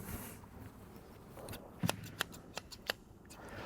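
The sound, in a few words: cutting with scissors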